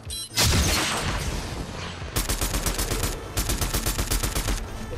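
Gunfire from players shooting at each other in the Fortnite video game: a loud burst of shots followed by rapid, evenly spaced automatic fire that pauses briefly and then resumes, close and without talk.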